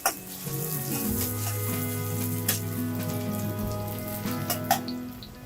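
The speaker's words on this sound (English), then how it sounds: "Heat some mustard oil in a wok and add sliced onions and fry them till golden brown" Sliced onions frying in mustard oil in a wok, a steady close hiss and crackle over a low humming tone, with a few brief sharper pops and no voices.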